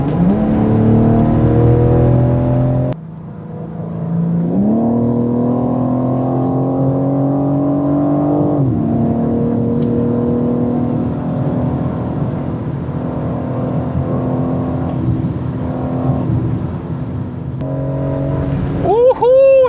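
A BMW M4 sports car engine accelerates hard on an unrestricted German autobahn section, its tone climbing through several gear shifts with brief dips between, loud and close throughout.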